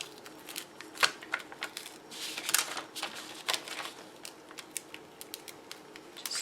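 Vinyl transfer tape is gently peeled back from a cut vinyl design for a Christmas chalkboard sign, making a faint, close crackle of small sticky clicks and ticks scattered irregularly, with no voices.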